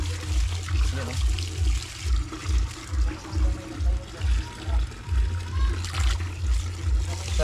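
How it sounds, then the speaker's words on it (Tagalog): Fresh spring water from a forest area flows strongly with a steady rushing sound and a rhythmic low pulsing, while a person talks over it. "sariwa ang tubig. Galing sa bukal."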